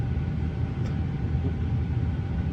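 A steady, broad low roar from an Airbus A350-900's engines in Microsoft Flight Simulator 2020, a continuous even drone filling the clip with no talk over it.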